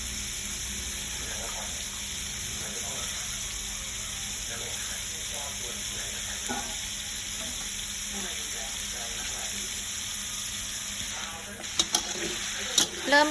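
Pork stir-fried with chili and salt in a pan makes a steady, close sizzle. Spatula scrapes and stirring clatter run through it, and a few sharper knocks come near the end.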